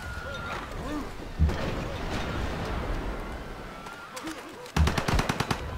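Bombard gunfire from a unit in Civilization 5: Gods & Kings, with rapid booming shots and a crash, then a fast burst of cracks near the end, all under game ambience.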